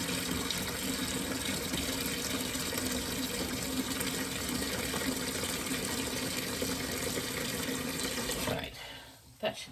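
Water gushes steadily from a tap into a container to make turkey brine, a continuous close splashing rush that cuts off near the end, leaving a few faint clatters.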